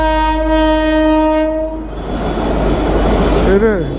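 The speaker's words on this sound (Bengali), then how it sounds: "এসে গেছে ট্রেন, যে ট্রেনটা দাঁড়িয়ে ছিল ওইটাই মনে হচ্ছে।" A passing train at a railway level crossing near Bhullanpur station sounds a long, loud, steady horn blast, then gives way to a heavy, close rumble of wagons rolling past.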